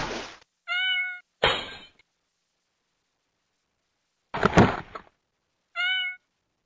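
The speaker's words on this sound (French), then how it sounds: "Ce chat a peur de l'eau." A frightened, dirty cat being bathed meows in separate harmonic cries, with two loud broadband bursts of noise and splashing in between and silence around them.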